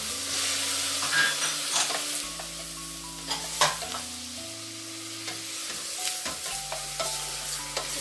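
Pork spareribs and tomatoes sauté in a hot pan, a steady sizzle broken by stirring scrapes and clatters, close and fairly loud, with faint background music underneath and no talking.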